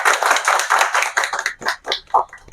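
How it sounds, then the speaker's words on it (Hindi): An audience at an award ceremony during a book fair in Agra claps, dense at first and then thinning into a few scattered, separate claps that die away. "और तालियां"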